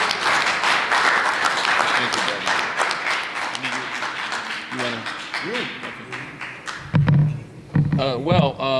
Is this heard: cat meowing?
no